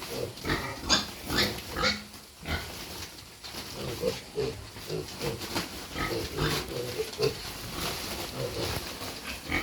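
Piglets on a farm grunt and squeal repeatedly at close range, with steady rustling and movement and some human voices mixed in.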